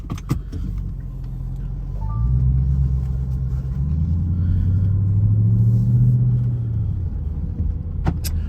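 Car interior on the road, a steady low engine and tire rumble that swells gradually, with a few clicks and knocks at the start and end and no talking.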